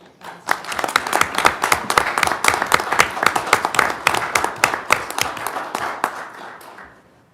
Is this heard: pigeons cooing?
no